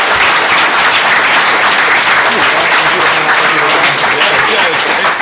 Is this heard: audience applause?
yes